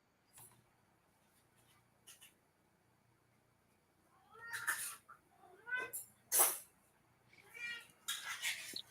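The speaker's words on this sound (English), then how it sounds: "I do hear your cat in the background and also dishes." A cat meows in the background of a quiet room, a few faint calls at first and then a cluster of louder, clearer meows and yowls toward the end.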